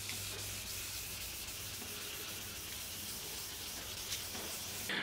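Steady hand sanding of a Nissan 350Z headlight with 800 grit sandpaper, a soft continuous rubbing hiss on a hard surface, close and fairly quiet.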